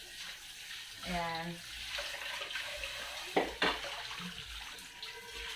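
Water running from a tap while dishes are washed at home, a steady rush broken by a few clinks and splashes, with someone speaking briefly over it.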